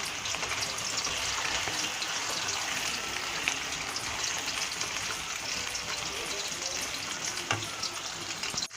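Vegetables and tomato paste stirred and sautéed in a pan for a Turkish karnıyarık dish, steady loud sizzling and frying throughout with faint spoon scrapes, no talk.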